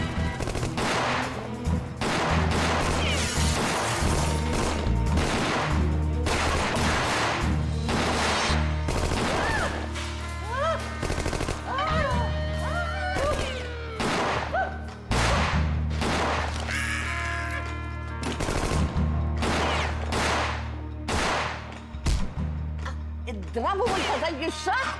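Gunfire crackles through an action film scene inside a bank: rapid bursts of shots and sharp cracks repeat throughout at close range, with scattered mechanical clicks and brief shouted voices mixed in over a dense, loud background.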